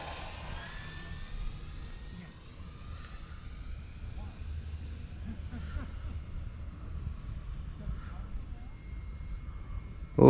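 An E-flite Air Tractor 1.5 RC model airplane on its maiden flight in a light wind gives a steady, fairly distant motor whine that rises and falls slightly, mixed with constant wind rumble throughout.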